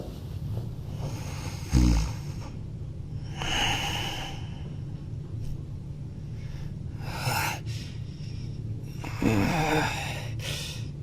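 Slow, heavy snoring repeats every few seconds, breathy rasps with an occasional snort, close by in an otherwise quiet room.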